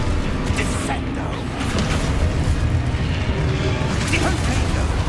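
Spell effect from a wizarding video game, a dense rumbling magical burst with booming low energy filling the whole stretch, loud and continuous with faint voice-like sounds mixed in.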